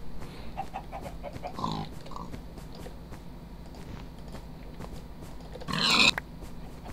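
Minecraft pig grunting in a farm scene, a brief oink near the middle and a louder, harsher squeal-like grunt toward the end over a low game background hum.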